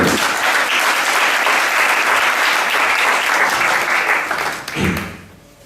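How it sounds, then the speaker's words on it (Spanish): A church congregation applauds, a thick, continuous roar of clapping filling the room at full strength for nearly five seconds, then fading quickly as it ends. "Dale un aplauso otra vez."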